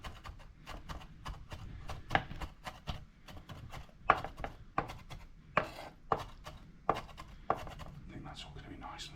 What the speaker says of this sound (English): just to chop them up